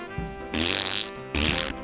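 A cartoon fart sound effect plays twice in quick succession, loud and close, each a raspy, buzzy blast of under a second over a faint musical backing.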